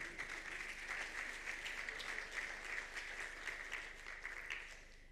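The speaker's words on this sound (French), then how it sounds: "On l'applaudit." An audience at a lecture on biomass applauds, a steady patter of many hands that is fairly distant and faint and tapers off near the end.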